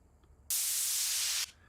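A burst of bright white noise hisses for about a second and then cuts off sharply. It stands alone over faint background hum.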